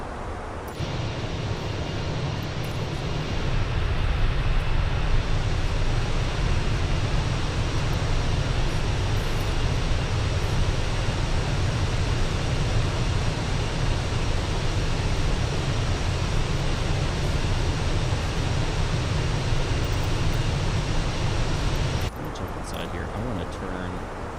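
Airbus A321 jet engines heard from outside the aircraft in a flight simulator game, a loud, steady broadband roar that holds unbroken for about twenty seconds before dropping slightly at the end.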